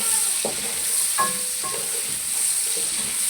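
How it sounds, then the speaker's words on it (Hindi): Onions frying in oil and ghee for a gravy, a steady close sizzle with a few soft stirring scrapes, no voices. "अभी हम ये इसी ऑयल के अंदर, घी के अंदर जो है ना, मैंने ये प्याज इसकी ग्रेवी तैयार करनी है"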